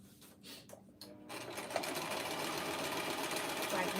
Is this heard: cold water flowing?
no